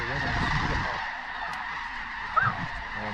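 Huge flocks of snow geese honk steadily over open Saskatchewan fields in a dense, continuous chorus, with one louder nearby honk standing out above the massed calls.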